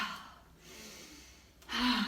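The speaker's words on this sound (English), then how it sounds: "breathing in." A deep, audible inhale during a yoga wake-up breathing sequence, a soft breathy draw that swells sharply toward the end.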